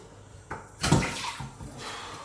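Water splashes and spills out as an Anespa-DX shower filter is pulled off over a bath, a short wet gush with a few drips after.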